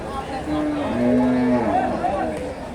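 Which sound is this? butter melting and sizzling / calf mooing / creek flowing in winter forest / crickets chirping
calf mooing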